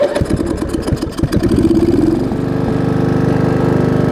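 A Craftsman riding mower engine with the choke on cranks in rapid, choppy bursts, then catches and settles into a steady, close, loud running drone.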